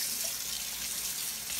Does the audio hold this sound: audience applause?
no